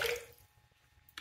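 Water is poured out during espresso preparation, a short splashing burst at the start followed by quiet and a faint drip at the end.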